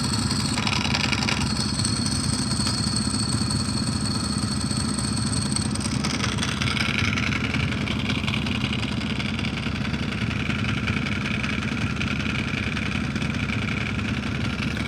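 A motorcycle's dry clutch rattles loudly and steadily over a close idling engine, with a brief blip of revving near the start.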